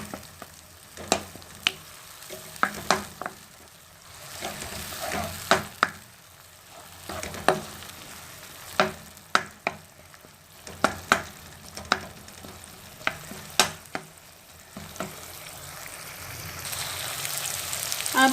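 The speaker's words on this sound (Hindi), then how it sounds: "ताकि प्याज और टमाटर एक साथ अच्छी तरह दोनों की भुनाई हो जाए।" Onion and tomato fry together for a Punjabi dhaba-style black chickpea curry, a soft continuous sizzle broken by repeated sharp clacks of a spoon scraping and stirring the pan, close and fairly regular, with no talk.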